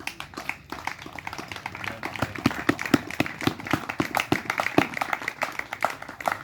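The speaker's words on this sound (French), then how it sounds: "On acclame pour la parole de Dieu." A church congregation applauding during a worship service, with rapid, uneven clapping close by that builds into a dense patter across the clip.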